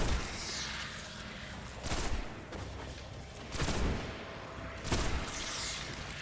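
Gunfire from a first-person shooter video game, with scattered heavy bursts and booming shots over a continuous rumbling background, fairly quiet overall.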